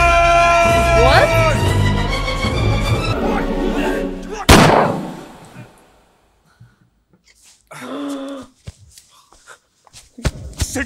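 A sharp, loud gunshot in the film Bhagam Bhag cuts through music and voices, followed by a quieter stretch with scattered thumps and brief voices.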